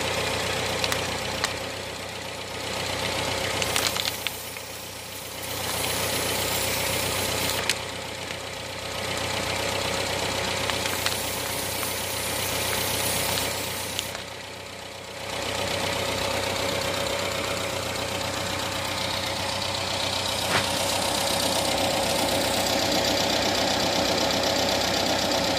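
A Renault 9 Broadway engine running on LPG idles steadily with a faint knocking rumble. It is heard up close and alone, with no talk, through the whole stretch.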